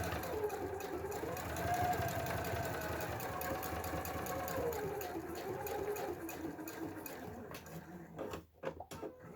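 Steady whirring hum of a sewing machine stitching a fabric wristlet, running continuously at a moderate level before stopping with a few clicks and rustles at the end.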